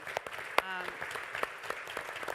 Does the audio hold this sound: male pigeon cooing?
no